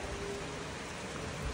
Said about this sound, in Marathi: वाव, एक नंबर पाऊस पडतो